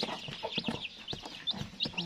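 Chickens on a small farm cluck and squawk near and fairly loud in quick, uneven bursts, several birds calling over one another.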